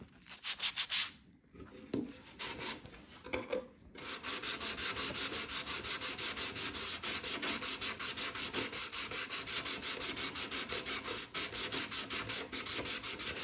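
Sandpaper wrapped on a sanding block is rubbed back and forth in quick, even rhythmic strokes, close and fairly loud after a few hesitant passes and a short pause at the start.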